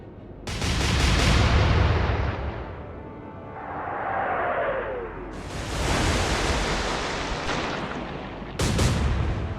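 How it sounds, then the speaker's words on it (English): Heavy naval guns fire from the cruiser Berwick in a sea battle: loud booming blasts with long rumbling decays, one after another, and a whistling shell passing between them, over a background of wind and sea. "But the Berwick kept firing."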